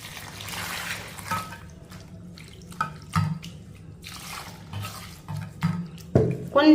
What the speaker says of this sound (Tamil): இப்போ இதை வாஷ் பண்றதுக்கு நல்லா தண்ணி ஊற்றிக்கிடுவோம்.